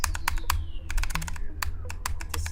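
Rapid, loud clicking of a gaming keyboard and mouse during play, sharp irregular taps in quick bursts close to the microphone over a low steady hum.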